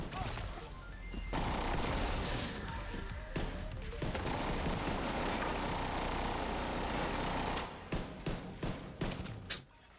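Gunfire in the video game The Division 2 during a firefight, a sustained rattle of shots and crashes at moderate level, ending in a few separate sharp bursts and one loud hit.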